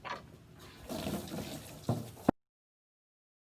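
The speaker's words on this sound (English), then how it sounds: "fill it up with water" Water rushes into a 50-gallon blue plastic barrel for compost tea, a close, steady splashing flow that swells midway, gives a couple of louder gurgles, then cuts off abruptly into silence.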